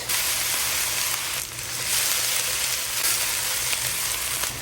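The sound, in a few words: onions sautéing over high heat, sizzling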